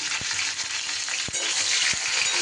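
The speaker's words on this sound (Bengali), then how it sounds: "নুন আর হলুদ দিয়ে বেগুনগুলো কিন্তু খুব সুন্দর করে ভেজে নিতে হবে" Brinjal pieces frying in oil with salt and turmeric, a steady dense hiss of sizzling with a few sharp spatula knocks against the pan, close and continuous with no voices.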